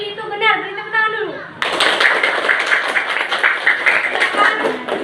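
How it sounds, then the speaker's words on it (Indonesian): Classroom applause breaks out suddenly and carries on as brisk, steady clapping from a group of students, after a teacher's voice speaks just beforehand. "Beri tepuk tangan dulu."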